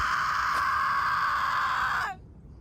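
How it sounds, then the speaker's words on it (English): A woman screams in the distance, one sustained high wail lasting about two seconds that cuts off abruptly, heard alone over a low background rumble. "Woman screaming in distance."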